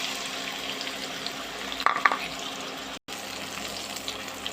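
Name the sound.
chopped onions added to hot oil, frying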